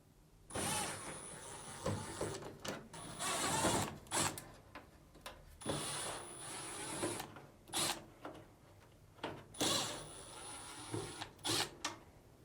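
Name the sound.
removing Phillips screws from Samsung dryer top cover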